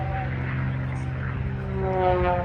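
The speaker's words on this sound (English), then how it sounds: "A little mini loop as he forces the airplane around." An aerobatic propeller airplane flies maneuvers at the Oshkosh airshow, a steady droning engine hum with a sustained tone that shifts slightly in pitch as the plane pulls around.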